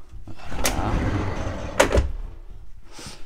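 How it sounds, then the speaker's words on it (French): A bathroom sliding door in a 32 m² tiny house rolls along its track in a broad, steady rumble for about a second and a half, ending in a brief knock as it closes, close by and fairly loud. "La salle de bain qui a une porte coulissante."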